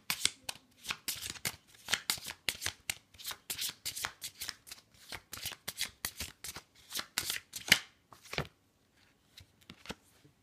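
Manga-themed cards shuffled for a card reading: a steady run of quick, crisp card slaps and riffles close up for about eight seconds, then a couple of final taps before quiet.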